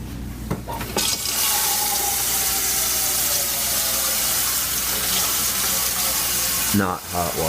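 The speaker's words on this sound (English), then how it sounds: "what I'm gonna do is fill up a big old freaking pot of water here." Tap water pours steadily into a big pot being filled with cool water for an acid etching experiment, a loud continuous rushing stream that rises slightly in pitch as the pot fills, then stops abruptly near the end.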